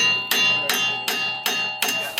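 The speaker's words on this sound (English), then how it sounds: "And then you want to hammer them out." Five sharp metallic strikes land at a steady pace about half a second apart, each ringing briefly: hammering out pressed-in bolts on a 2017 Mustang GT, up close.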